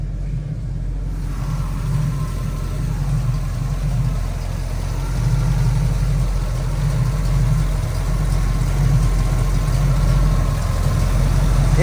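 Loud, deep rumble of a 454 big-block V8 in a 1967 Chevrolet Camaro with dual exhaust idling steadily, with a low throbbing exhaust note throughout and no talking.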